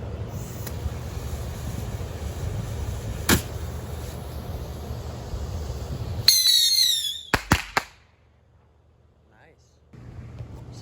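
Bottle rockets set off with an Ignite i18 electronic firing system: steady outdoor background noise, then a sharp pop, a rising whistle and several quick loud cracks close by, followed by near silence.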